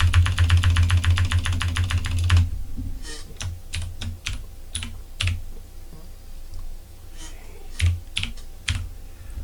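Keyboard keys clatter rapidly in a dense burst, then continue as spaced individual clicks, close up with no speech, while the player types in World of Warcraft: Wrath of the Lich King.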